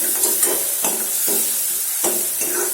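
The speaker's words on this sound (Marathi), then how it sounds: "लसूण आणि मिरचीची ती टाकून तर ही सगळे जिन्नस आपण छान परतून घ्यायचे" Garlic and green chili paste sautéing in a pan, a loud steady hiss and sizzle with soft scraping stir strokes every half second or so, close and continuous.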